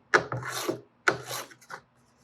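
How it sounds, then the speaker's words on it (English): Hand tool scraping and trimming back purfling on a steel string guitar neck, two close, raspy wooden rubbing strokes of about a second each, followed by a few short lighter scrapes, no talking. "and trim back this purfling"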